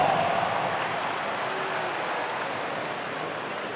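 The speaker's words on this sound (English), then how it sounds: "a big round of applause" Steady, dense applause from a large arena crowd at a Boston Celtics versus Philadelphia 76ers basketball game, a continuous wash of clapping and cheering that holds at a constant level throughout.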